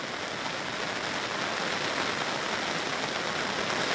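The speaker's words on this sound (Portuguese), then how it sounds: "agora, desde meio-dia mais ou menos, está chovendo bem forte aqui" Heavy rain pouring steadily in Vitória, Brazil, a dense, continuous hiss of water hitting surfaces, loud and even throughout with no voices.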